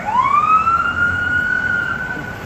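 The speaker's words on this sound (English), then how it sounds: "I don't know if you've seen that in the camera behind us, the vans and the cop cars, but that was that noise." Police car and van sirens pass close by outside in Las Vegas: a loud, steady wailing tone that sweeps up and then holds, with no speech over it.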